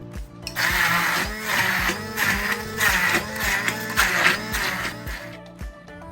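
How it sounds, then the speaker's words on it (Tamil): A kitchen mixer grinder whirs loudly and continuously as it blends mango pulp, its motor pulsing with a churning rhythm for several seconds before it cuts off. "இதை வந்து மிக்சியில் தான் அரைக்கணும்."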